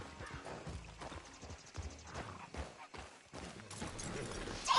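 Horse hooves clip-clopping at a gallop during a race in Red Dead Redemption 2, a steady pounding rhythm with an occasional whinny, mixed with game sound effects and a few sharp cracks.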